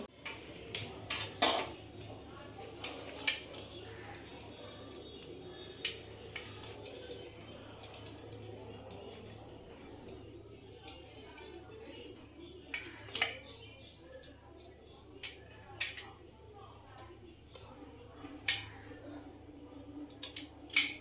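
Knife work on bhetki fish at a cutting board, with scattered clinks and taps of a blade and utensils against the board and dishes, sparse and irregular, close by over a quiet low background hum.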